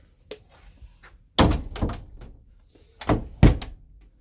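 A stuck door in a 1960 midcentury modern house is forced with several heavy thunks and bangs, loud and close, grouped in irregular bursts with quieter rattles between them.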